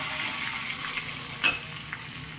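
Spices and garlic tempering in hot oil for horse gram dal, giving off a dense, steady close sizzle with a few small pops throughout.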